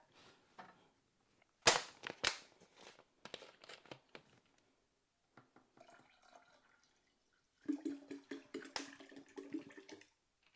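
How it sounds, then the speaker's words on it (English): Faint, close pouring and trickling as half a litre of water goes into an IGULU F1 brewing machine, broken by a couple of sharp clicks early on, with a louder gurgling splash toward the end. "I'm going to now add on half a litre of water."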